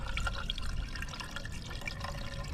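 Windshield washer fluid poured slowly from a jug into a car's reservoir, a steady close liquid gurgle and trickle running throughout without talk.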